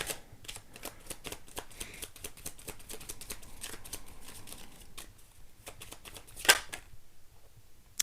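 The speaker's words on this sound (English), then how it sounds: "Let me get 2 more cards here." Tarot cards are shuffled and drawn in a fast, steady riffle of soft papery flicks, close and quiet, with a sharper snap near the end.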